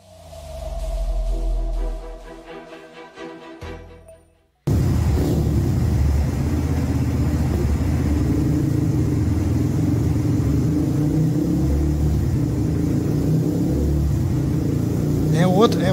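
A 2024 Yamaha R15 motorcycle with a new exhaust roars steadily and loudly after a brief stretch of other sound, holding a deep, throaty rumble throughout with slight fluctuations.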